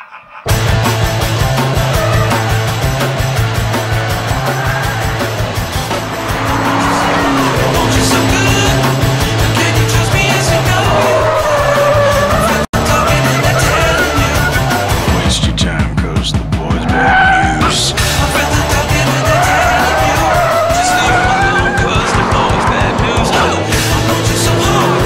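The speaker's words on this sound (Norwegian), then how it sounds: "i dag er vi på Rudskogen og skal kjøre den ultimate Mustangen sammen med Tommy Rustad" A Ford Mustang Shelby GT500 laps the Rudskogen race track, its loud engine roaring and shifting continuously, with squealing tires as it slides through corners, close and heard without talk.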